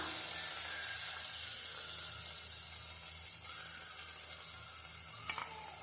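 Butter beans, green beans and carrot sauté in hot oil with a steady, even sizzle that holds throughout, close and moderately loud, with a faint clink near the end.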